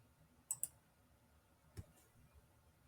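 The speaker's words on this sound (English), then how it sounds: "Let me click on confirm." Computer mouse clicks, a quick close double click followed by a single softer click, sharp and isolated against a quiet background.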